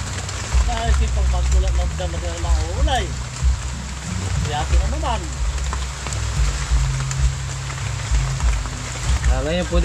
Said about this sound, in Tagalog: May bagyo po rito ngayon. Kaya po ganito kalakas ang ulan.